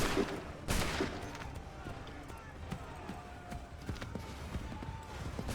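A musket volley cracks out during the defense of Concord in Assassin's Creed 3, one sharp loud burst early on, followed by scattered shots and hoofbeats beneath shouting voices.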